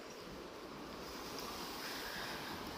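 Ocean surf rolls steadily onto the beach at Batu Karas, Pangandaran, a continuous loud wash of breaking waves with wind noise across the microphone and no voices.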